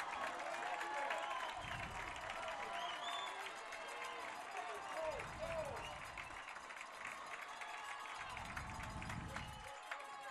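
A home crowd on its feet at a Lubar Stadium high school football game between Homestead and Whitefish Bay, a sustained roar of cheering and clapping with swelling bursts, a commentator talking over it.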